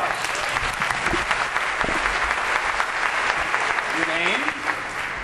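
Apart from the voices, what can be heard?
theatre audience applause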